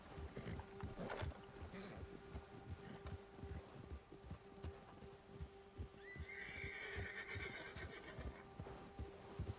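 Horse in Red Dead Redemption 2 spooked by a bear, whinnying in alarm amid steady clip-clop hooves, with a buzzing insect drone nearby and faint background ambience.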